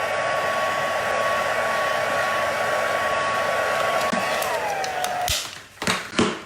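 Hair dryer blowing steadily to dry alcohol ink on paper, a constant close whir that shifts pitch near the end before stopping, followed by a few handling clatters.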